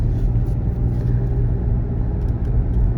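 Steady low rumble of a car driving on the road toward Artyom airport near Vladivostok, heard from inside, with constant tire and engine noise and no talking.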